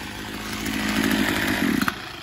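A Maruyama KN26 26cc two-stroke grass trimmer engine with a 34 mm bore, Walpro-modified and on a squeeze throttle, revs up with a raspy, rising whine and stays loud and close throughout.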